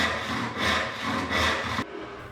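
Hand saw crosscutting a wooden board during hand-tool joinery work: three rhythmic rasping push-pull strokes sound close and clear, then the sawing stops abruptly.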